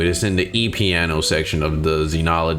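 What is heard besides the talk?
None of the usual background noises is heard.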